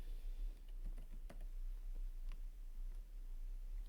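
Faint, irregular keystrokes on a computer keyboard as code is typed, soft clicks scattered over a steady low hum.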